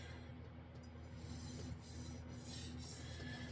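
Japanese chef knife being sharpened on a whetstone, a faint continuous gritty rubbing and rasping over soft background hum, with no speech.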